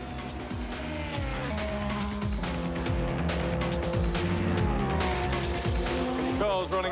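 A Delta Wing race car running in a race at Road Atlanta, its engine note rising and falling steadily with gear changes and passing traffic, loud and continuous throughout.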